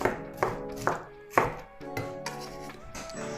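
A kitchen knife chops pineapple into small pieces on a board, about eight firm, fairly close knocks spaced at a steady, slightly uneven rhythm with brief rustling of fruit between strokes.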